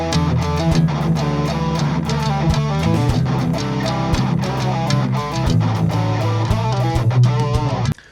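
A bass guitar line building beneath a distorted guitar riff, with steady rhythmic low notes and punchy hits driving the repeating pattern. Loud, full and continuous until an abrupt stop at the end.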